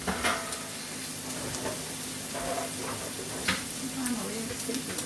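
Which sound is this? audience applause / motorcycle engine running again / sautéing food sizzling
sautéing food sizzling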